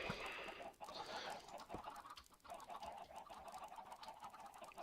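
Chickens clucking on a chicken farm in a video game, with a continuous murmur of overlapping clucks and squawks plus a few sharp clicks, moderately close.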